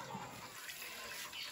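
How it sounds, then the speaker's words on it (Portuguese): Lye solution poured into a batch of homemade pork-fat soap, a faint, continuous liquid gush and splash heard close up for a moment with a soft hiss throughout. "Agora nós vamos despejar no sabão."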